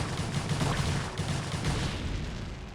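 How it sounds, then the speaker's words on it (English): In StarCraft: Brood War Remastered, a dense crackling explosion rumbles continuously, loud and noisy throughout, with no voices. "Good explosion animation."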